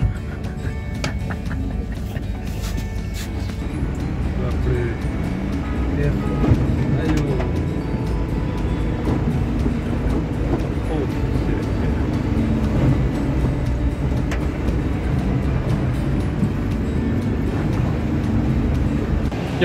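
A moving train rumbles and rattles steadily at a constant low level, with people talking over the continuous noise.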